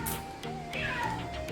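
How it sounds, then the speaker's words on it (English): A house cat meows a few times nearby, the calls rising and falling over a steady indoor room hum, with no talking over them. "Oh, hey, the cat."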